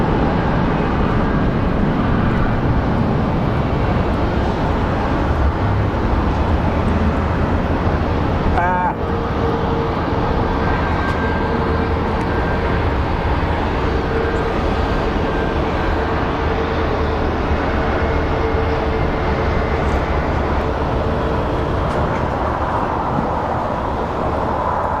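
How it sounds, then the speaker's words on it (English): An Advanced Air plane at Phoenix Sky Harbor airport, bound for Show Low, Arizona, produces a loud continuous engine roar with a steady tonal hum, briefly punctuated by a sharp clatter midway. "this plane is actually operated by Advanced Air, and it's headed to a town called Sholo, Arizona"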